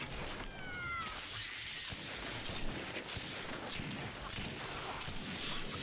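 A burning cat yowls and meows angrily over a dense, noisy Torchlight III game soundscape with crackling and rumbling effects throughout.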